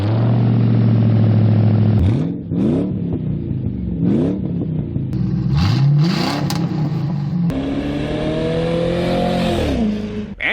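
A Ford Crown Victoria V8 with a crude poor man's muffler delete revs repeatedly, the exhaust rising and dropping in several loud, raspy sweeps close by, with no talking.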